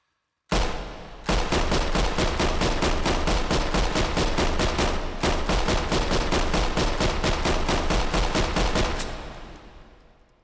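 A PPSh-41 submachine gun fires in the virtual reality game H3VR: one short burst, then two long, rapid, continuous bursts of loud, closely spaced shots with a brief pause between them, ending in a fading tail.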